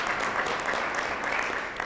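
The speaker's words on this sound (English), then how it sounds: "our legislators are entitled to a great round of applause" An audience at a restorative justice summit applauds for legislators, a dense, steady round of clapping that fills the whole short stretch at even loudness.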